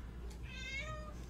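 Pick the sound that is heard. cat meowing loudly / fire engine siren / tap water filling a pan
cat meowing loudly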